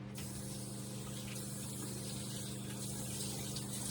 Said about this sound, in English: Okay, so then I rinse this out.